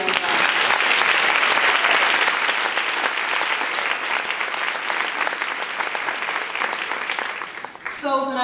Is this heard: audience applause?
yes